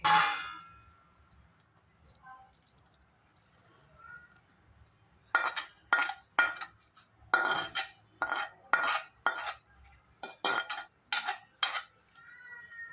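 A dry plate set down as a cover over raw mango pickle, a rapid run of bright metallic clangs and clinks of dishware coming in quick bursts after a quiet start, close and crisp.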